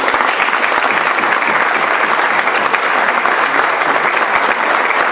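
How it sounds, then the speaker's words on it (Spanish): Loud, dense applause from an audience honoring parents at a panel discussion on shared responsibility and equality, a steady wash of many hands clapping that holds evenly throughout without a break. "no sé si podamos darle un fuerte aplauso a los padres"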